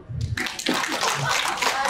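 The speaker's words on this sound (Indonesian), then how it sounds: "Tepuk tangan dulu dong." An audience claps at a talk on political costs in Indonesia, a burst of hand claps rising after a brief voice and continuing as a dense, fairly close patter.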